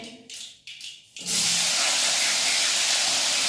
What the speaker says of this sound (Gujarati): આ હિંગ નાખી એવા આપણે આપણે સરગવો નાખી દઈએ વઘાર કરી નાખીએ